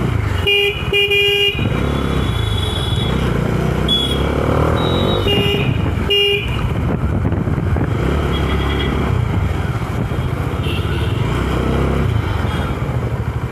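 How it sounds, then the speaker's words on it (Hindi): Heavy night road traffic heard from a Dominar 400 motorcycle, with a loud continuous engine and road roar, repeated car horn honks in short bursts near the start, and scattered toots throughout. "ट्रैफिक बहुत है"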